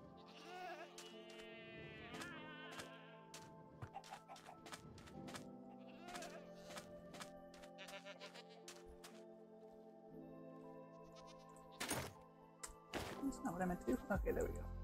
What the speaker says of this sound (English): I am making a lazy river for all 500 million of my goats to float on